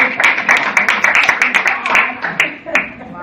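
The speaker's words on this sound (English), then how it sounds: "Round of applause." A seminar audience applauds in a quick burst of scattered hand claps, fairly close and loud, thinning out toward the end with some voices mixed in.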